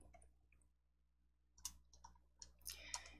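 Faint mouse clicks on a software Make button during word-processor setup, a few sharp quiet clicks clustered near the end after a near-silent stretch, close and isolated.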